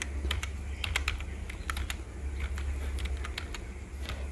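Steady clicking of keys on a computer keyboard as a customer's CIF number is entered into a Fino Payment Bank account form, quick irregular taps close by over a low constant hum, no voices.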